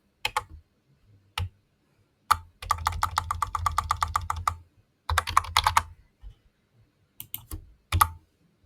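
Keys clatter on a computer keyboard as code is typed, close and crisp, in several rapid runs with short pauses and a few isolated taps between them.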